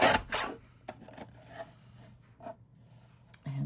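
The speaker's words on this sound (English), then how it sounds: "I'll just trim a little off each edge." Paper craft trimming for a Halloween card: a few short scratchy cutting strokes, close and fairly quiet, with a low steady hum underneath and a louder rustle at the end.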